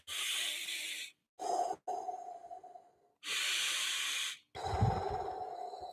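A voice imitates Darth Vader's mechanical breathing: four loud, hissy breaths, long inhales alternating with exhales, close to the mic and separated by short silences.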